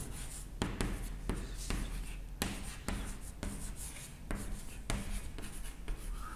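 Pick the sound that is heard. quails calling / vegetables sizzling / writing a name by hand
writing a name by hand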